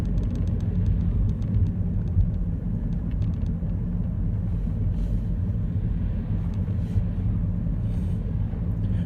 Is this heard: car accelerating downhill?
yes